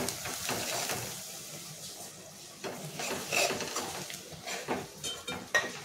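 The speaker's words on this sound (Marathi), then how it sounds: "त्याच्यामध्ये आता आपण जे बेसन घेतलेलं आहे ते थोडं थोडं टाकून आपल्याला ते मिक्स करायचं" Gram flour (besan) being stirred and roasted in a pan for zunka, with steady scraping and clinking of a spoon against the pan and a soft sizzle, close and moderately loud, with no talking.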